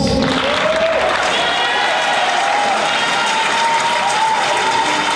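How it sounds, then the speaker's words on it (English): An audience applauds sponsors at a community event, producing loud, sustained clapping from a crowd with some cheering mixed in and a faint tonal whistle under the clapping. "Kindly round of applause every time I read the names of the sponsors."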